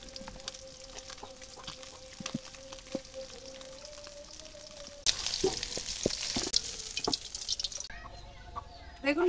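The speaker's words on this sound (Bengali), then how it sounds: "বেগুন ভাজার জন্য আরেকটু তেল দিয়ে দিলাম, এবার বেগুনগুলো দিয়ে দেই" Eggplant slices seasoned with turmeric and salt sizzle in hot oil, a steady close frying crackle that jumps louder midway as more pieces hit the pan, with brief talk over it.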